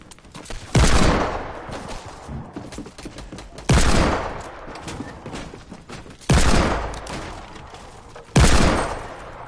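Four heavy, booming gunshots from a Desert Eagle and a silenced pistol in a video game, each loud sharp blast trailing off into a long decaying tail, spaced a couple of seconds apart with no talking.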